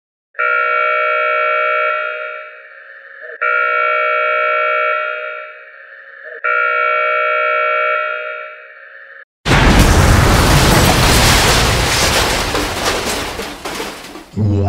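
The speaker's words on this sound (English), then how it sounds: "There's been a reactor explosion at the Newport power plant." Three long, steady electronic alarm tones repeat, then a loud, sudden reactor explosion sound effect erupts into a broad, rumbling roar that slowly fades.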